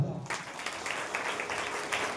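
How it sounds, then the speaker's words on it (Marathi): An audience at a devotional kirtan gathering claps in a dense burst of applause that lasts a couple of seconds, with voices mixed in. "टाळ्या होऊ दे त्यांच्यामध्ये"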